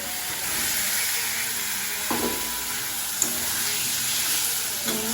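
Boiled potatoes tossed with spices in a hot pan give a steady sizzling hiss, broken by a few soft scraping stirs near the two-second mark and again later.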